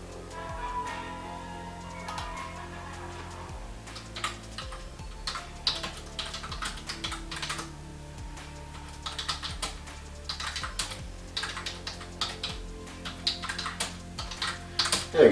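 Typing on an external computer keyboard connected to an Acer Chromebook 15, rapid irregular key clicks close and clear, with brief pauses between bursts and no talking.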